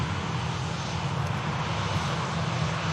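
A jet airliner rolls out after landing at Manchester Airport in a rough crosswind, a steady broad engine roar with a low rumble, heard at a distance and without talking.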